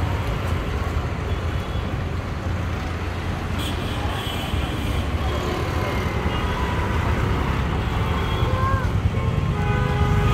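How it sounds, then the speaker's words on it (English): Constant roar of street traffic in Varanasi, India, vehicles passing steadily nearby, with a voice faintly underneath. "it's so noisy and I have to shout through traffic"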